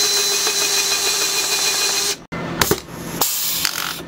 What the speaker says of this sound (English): Now the other side is ready to be drilled out.